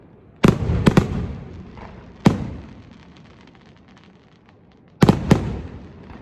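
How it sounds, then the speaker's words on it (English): Fireworks burst in a back garden with sharp booming cracks, one pair, a single blast and another pair spaced seconds apart, each rumbling and crackling as it fades. "here are the fireworks."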